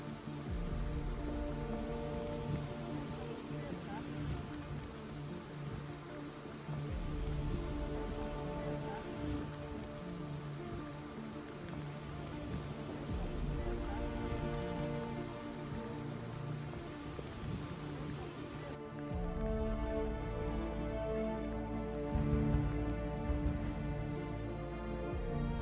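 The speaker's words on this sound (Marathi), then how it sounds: "खूप जोराचा पाऊस होतोय इथे" Heavy rain pours down at the Alaldari waterfall in Sakri, Dhule, a dense, steady hiss filling the whole stretch close to the listener, with the texture shifting slightly near the end but never letting up.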